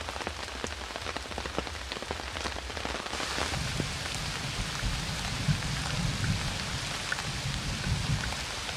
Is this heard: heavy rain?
yes